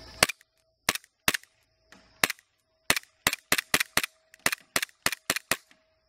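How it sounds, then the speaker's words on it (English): A gas-powered airsoft G-series pistol fires at a blue target in sharp, snappy cracks, fourteen or so shots, some single and spaced, others in quick bursts, close and clear over quiet background. "I'll hit the slide release and come over here and shoot it at that blue target over there."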